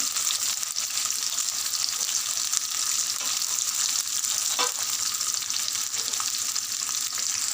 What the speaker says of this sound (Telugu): ఉల్లిపాయలు పచ్చిమిరపకాయలు వేసి రెండు రెమ్మల కరివేపాకు